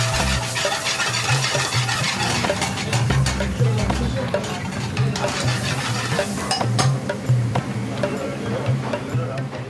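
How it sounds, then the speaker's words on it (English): Chopped chicken sizzles and is stirred in a frying pan, with steady frying noise and repeated scraping and clattering of utensil against the pan throughout, fairly loud and close. "He adds the chopped chicken to the frying pan. He mixes all the ingredients together."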